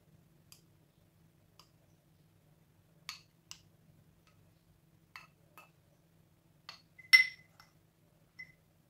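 Aloe vera being put into a sterilised glass jar, scattered faint clinks and light taps of glass and utensil spaced apart over near silence, one brighter ringing clink standing out.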